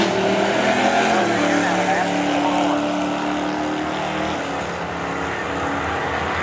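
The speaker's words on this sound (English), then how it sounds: "That is David Lyons over there, driving a mini arcade car" Mini arcade race car driving on a dirt raceway during an alumni race, a continuous droning engine roar with shifting pitch that stays close and loud, under an announcer talking.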